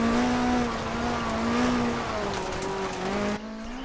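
Rear-wheel-drive, short-wheelbase rally car in DiRT Rally spinning out, its engine holding a steady droning note alongside tyre scrubbing. The sound cuts down sharply near the end.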